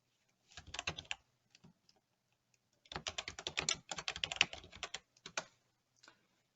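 Rapid keystrokes on a computer keyboard come in two bursts with a pause between, close and fairly soft, with no voices.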